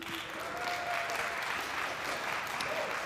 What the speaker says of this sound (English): feel free to give a cheer when I name them